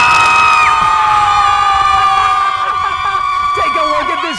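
A sideline crowd of fans at a sports game screams and cheers loudly and close by, with high sustained shrieks and whoops that break into scattered yells toward the end.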